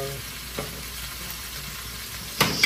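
Papaya slices drop into a pan of sautéed onion for a Filipino mussel and scallop soup, giving a steady soft sizzle with two brief clattering bursts of pieces landing or stirring, close by.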